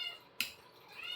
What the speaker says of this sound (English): As you can hear, the cat, of course, wants to get fed.